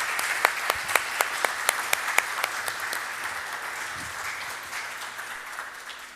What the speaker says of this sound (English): So yeah, round of applause for Ralph, the team at FAIR.